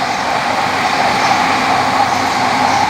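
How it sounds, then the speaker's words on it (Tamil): A Shinkansen bullet train passes at a trainspotting location in Tokyo, a steady loud broadband rush and rumble that holds for the whole stretch with no voices. "ஷின்கான்சென் இது."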